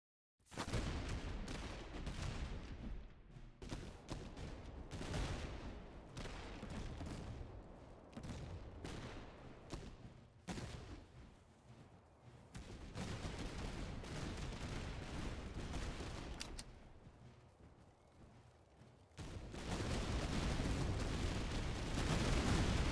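Musket gunfire rolls through a battle in the Master of Command video game: dense, continuous crackling volleys of many shots, with brief lulls between heavy bursts, loud and sustained throughout.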